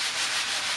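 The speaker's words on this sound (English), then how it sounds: "I'm using my 220 grit sanding sponge just to clean everything up before I start painting" A 220 grit sanding sponge rubs over a wooden coffee table in one short, steady, close hiss of abrasive scraping.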